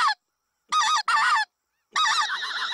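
A handheld goose call imitates Canada geese honking, giving short, loud, nasal honks in quick bursts: one clipped note, a pair, then a longer drawn-out honk, close and with no other sounds.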